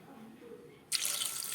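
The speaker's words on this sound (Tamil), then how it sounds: "இது வேக வைக்கிறதுக்கு தண்ணி சேர்த்துக்கிறேன்." Water pours onto drained chickpeas in a pressure cooker, a sudden bright rushing splash starting partway through and continuing steadily, close and fairly loud after a quieter start.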